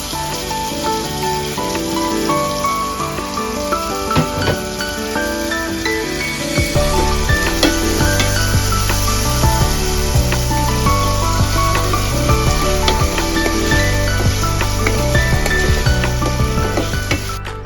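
Peas and long beans fry loudly in a hot pan for fried rice, a steady close sizzle with occasional stirring scrapes and no voices.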